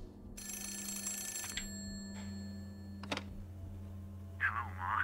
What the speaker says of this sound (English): I'm about to answer the phone.